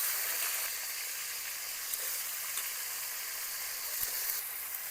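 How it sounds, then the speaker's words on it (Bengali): Kohlrabi and carrots fry in hot oil, giving a soft, continuous sizzle and hiss with a few faint clicks, fairly quiet and without talk. "এগুলোকে আবার একই রকম ভাবে ভেজে নেব।"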